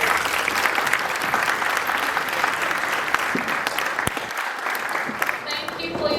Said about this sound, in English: Let's give Mama Mojuku a big round of applause